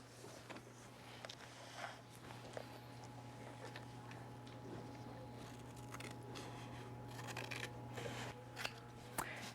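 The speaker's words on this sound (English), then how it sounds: "Okay, Casey, you show us one way to cut this square into halves." Scissors snip a paper square into halves in a quiet room, with faint paper rustles and a low electrical hum beneath.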